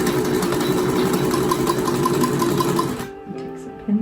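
A sewing machine runs fast on t-shirt fabric in a steady whirring, rapid needle chatter, close and loud, then stops abruptly, leaving a quiet pause.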